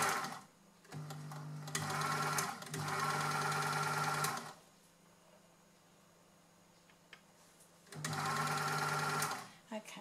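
A sewing machine stitches a knit hem in close, loud bursts with a fast, even whirring rhythm: two runs at the start, a quiet pause of a few seconds, then a third run.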